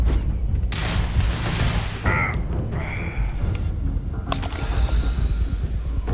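Rapid bursts of gunfire and booming shots fill a firefight in the video game Starfield, loud and continuous, with voices shouting over the combat.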